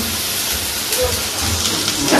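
Potato slices sizzling in hot oil in a wok on a home stove give off a steady, dense hiss and crackle, loud and close, while a voice is heard faintly.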